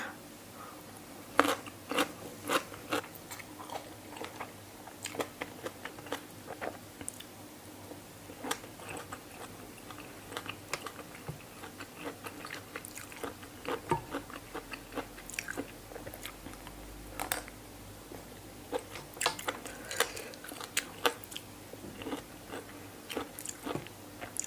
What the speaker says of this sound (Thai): ผักโคตรกรอบเลยกรุบกรุบ